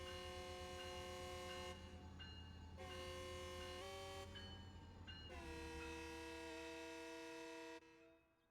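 A locomotive horn in the Train Sim World 4 video game sounds in long sustained blasts with brief gaps, the tones sliding in pitch as a Doppler shift sets in, loud and steady throughout.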